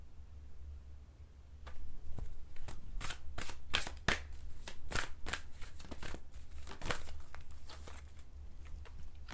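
Oracle cards shuffled by hand in steady rapid riffles and slaps, close and fairly loud over a low background hum, with no talking.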